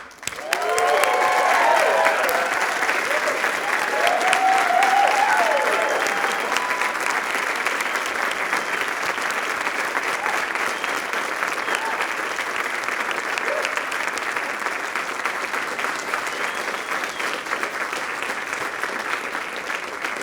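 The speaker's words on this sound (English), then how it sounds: "Now it's your turn to honor them with your cheers and your applause." Graduates at a Dalhousie University law school spring convocation applaud and cheer their families and friends, a loud, sustained roar of clapping with scattered whoops early on that slowly settles into steady, dense applause.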